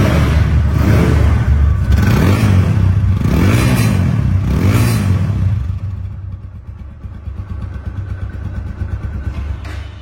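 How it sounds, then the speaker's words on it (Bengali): A second-hand TVS Apache RTR 160 ABS motorcycle engine running close by, a loud rumbling idle with a few throttle blips that rise and fall, then settling into a quieter steady idle. "বাইকটির সাউন্ড কোয়ালিটি শুনুন।"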